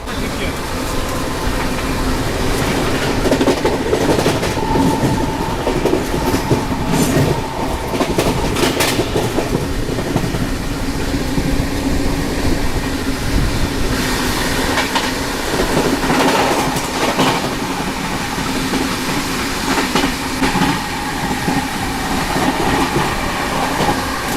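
Passenger express train running steadily on rails at good speed while overtaking another express, with continuous loud wheel rumble, rhythmic clickety-clack over rail joints and a steady interior hum; voices talk intermittently over the noise.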